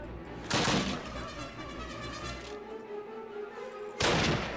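Two sharp, loud blasts of gunfire from Call of Duty, one near the start and one near the end, with a low rumbling background of battle between them.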